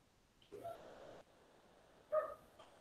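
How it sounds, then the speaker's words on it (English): A small dog barks and yips faintly indoors in a home during an online math lesson, with two short bursts a second or so apart. "I didn't hear you because the dog was barking."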